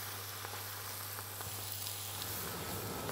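Spinach cooking down in a pan gives a soft, steady sizzle and hiss that runs the whole time, with a few faint clicks and no voices.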